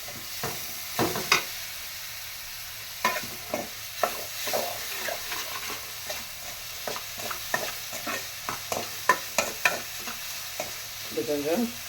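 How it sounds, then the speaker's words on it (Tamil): Tomatoes with turmeric sauté in a pan for kara kuzhambu, a low sizzle broken by frequent spatula scrapes and taps in an irregular rhythm, no one speaking. "இது கொஞ்சம் வதங்கட்டும்"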